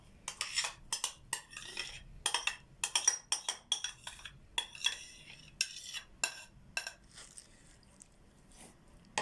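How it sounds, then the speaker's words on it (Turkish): A spoon stirs a salad of celery root, carrot, chopped walnuts, yogurt, garlic and mayonnaise in a bowl, making a run of quick, close clinks and wet scrapes in an irregular rhythm, gradually softening. "Şimdi bunları iyice karıştıracağım."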